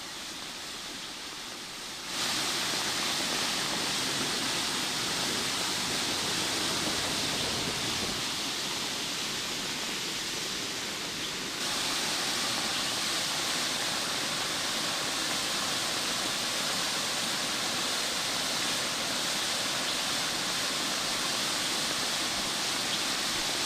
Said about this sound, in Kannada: ಗುಡ್ಡದಿಂದ ಅಪಾರ ಪ್ರಮಾಣದಲ್ಲಿ ಇದ್ದಕ್ಕಿದ್ದ ಹಾಗೆ ನೀರು ಹರಿದು ಬಂದಿದೆ.